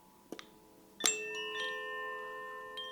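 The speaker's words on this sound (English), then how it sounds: "you can place the chimes next to the person and just tap it." Koshi chimes knocked and tapped: a soft tap, then a bright ringing strike whose metallic tones sustain and shimmer for about two seconds, with another light tap near the end.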